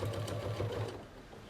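A sewing machine stitches fabric bunting in a steady, rapid mechanical chatter, loud and close, which slows and fades toward the end.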